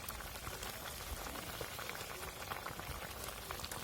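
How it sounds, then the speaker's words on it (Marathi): A pot of harbhara (chickpea greens) bhaji boiling steadily, with a continuous bubbling, popping simmer that stays even and close throughout, with no voices. "तर आता आपली भाजी मस्तपैकी उकळ उकळलेली आहे"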